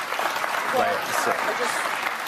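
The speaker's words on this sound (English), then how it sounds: "Why are you guys clapping?" A studio audience at a televised talk show breaks into steady applause, dense close clapping that fills the whole stretch without letting up, with a voice faintly audible beneath it.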